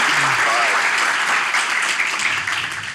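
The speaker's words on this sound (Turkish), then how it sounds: "Alkışlar hocamıza." Audience at a talk show applauding a teacher, loud dense clapping throughout with a brief voice heard at the start.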